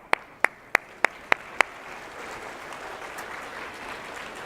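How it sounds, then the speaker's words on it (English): A church congregation applauds, opening with six sharp, evenly spaced claps close by that give way to a soft, diffuse patter of clapping spread across the room. "And let's give these people a round of applause."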